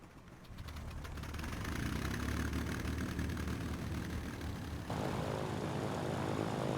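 B-17 bomber propeller engines in the video game Ground of Aces, a steady loud droning roar that builds at the start and holds, with a slight shift partway through, no talking.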